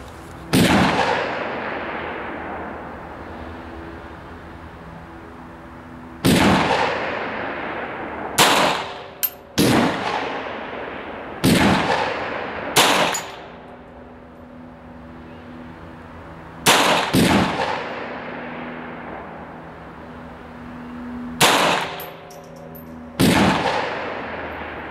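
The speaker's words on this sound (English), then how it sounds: "it's the first proper slide actuated pistol, John Browning's genius." An old Browning slide-actuated pocket pistol, issued as a service pistol, fires seven sharp, loud shots at irregular intervals of a few seconds, each ringing out briefly before quiet returns.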